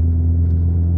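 A large truck rumbles past on a road, heard from inside a moving vehicle as a loud, steady low-frequency drone that holds for the whole second with no voices.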